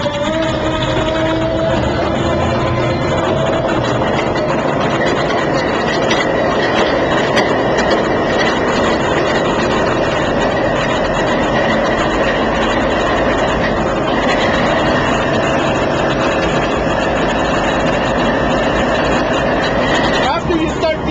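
A VIA Rail P42DC diesel locomotive, number 915, idles after start-up with a loud, constant engine drone and steady mechanical whine, while people speak close by over the running engine.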